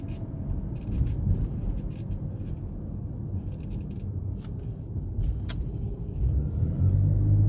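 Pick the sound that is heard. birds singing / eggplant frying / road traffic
road traffic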